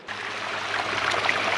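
Rainwater runs through a ditch beside a field road after heavy rain, a steady close rushing and trickling wash that holds evenly throughout.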